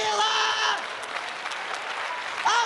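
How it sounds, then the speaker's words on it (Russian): A theatre audience at a KVN comedy game claps in a burst of applause that fades under a voice talking, then swells again briefly at the end. "Чего вы ей хлопаете?"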